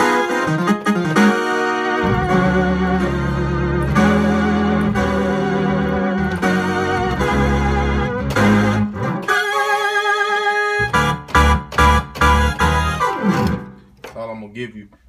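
Thick layered synth tones, a deep HugoBass synth bass line layered with an MKS synth under brighter synth chords, shifting through several phrases with choppy stabs near the end.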